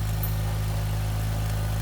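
A Honda Prelude engine idles steadily and close by, a loud continuous low hum with a strong, even engine tone throughout and no voices.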